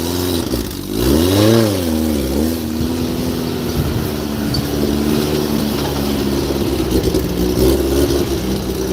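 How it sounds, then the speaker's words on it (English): A speedboat engine revs up sharply near the start, its pitch sweeping up and back down, then settles into a steady, loud droning run on the water. "Here's my speedboat. Need to take that out."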